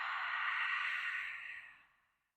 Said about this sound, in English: open the mouth, exhale, let it go